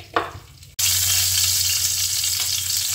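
Oil in a pan bursts into a loud, steady sizzle after a brief quieter moment, frying hard and close for the rest of the stretch.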